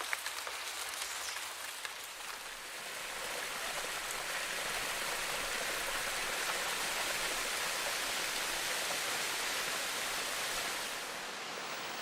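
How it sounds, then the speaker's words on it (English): Heavy rain falls steadily on a northeastern Australian rainforest, a dense continuous hiss that swells slightly and holds without pause, with no voices. "rain falls incessantly for days at a time"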